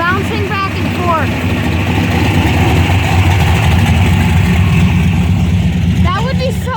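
Loud, close turbocharged car engine idling at a car show, a steady throaty drone with slight revving, while people talk over it.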